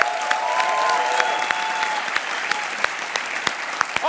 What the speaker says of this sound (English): Students and competitors, please give yourself a round of applause because you all deserve it.